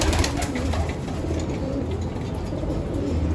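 Pigeons coo steadily in a loft with about sixty birds, a close, continuous murmur of overlapping low calls with no pauses.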